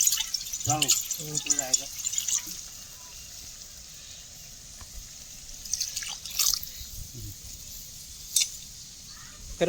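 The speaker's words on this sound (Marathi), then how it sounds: "थोडं पाणी टाकून देऊ" Water splashes and drips into a pan of thick crab masala at a village cooking spot, with a few brief wet bursts near the start and middle while people talk over it.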